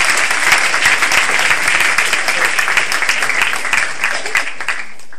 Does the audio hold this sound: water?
no